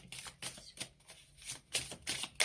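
Tarot cards are shuffled close up in quick, crisp bursts of riffling and sliding, several rapid shuffles in a row, quiet and alone without talk.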